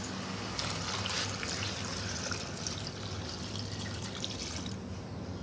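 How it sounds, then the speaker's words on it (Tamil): A steady stream of water pours continuously into a container, a constant close splashing trickle that ends with a small clunk. "அடுத்த கட்டமாக தண்ணி ஊற்றிடலாமுங்க"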